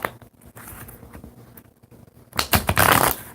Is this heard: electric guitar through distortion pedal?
no